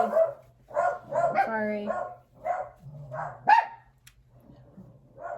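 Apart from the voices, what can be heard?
dogs barking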